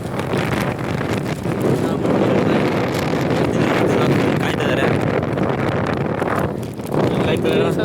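Strong wind buffets the microphone at a hilltop viewpoint on Salumara Gudda, making a loud, continuous rumbling roar with gusty surges. Voices are faintly present under it.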